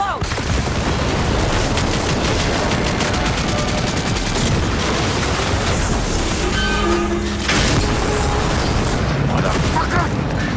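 Heavy gunfire and a booming explosion in the video game Cyberpunk 2077, loud and continuous with rapid bursts and rumbling impacts layered under shouted voices.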